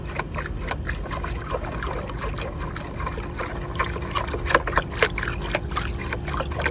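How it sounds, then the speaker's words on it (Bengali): A stick stirs plant fertilizer into water with soft swishing and trickling, a few clicks of the stick against the container, and a faint, steady background hum. "আমি এই কাঠিটার সাহায্যে দেখুন খাবারটা গুলিয়ে দিচ্ছি।"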